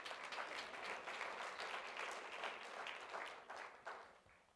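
Audience applause at a National Press Club speech, a dense, sustained crowd clapping that stays loud for several seconds before thinning slightly at the end.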